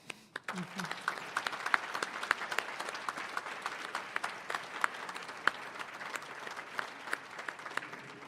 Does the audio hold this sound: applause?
yes